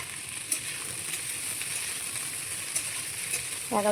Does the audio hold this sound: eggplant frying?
yes